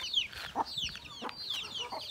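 Backyard chickens clucking: soft, repeated clucks and short chirpy calls, fairly close and quiet, with no talking.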